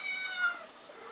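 A Siamese cat gives one drawn-out, plaintive meow, close and clear, gently wavering in pitch for about a second with no talking.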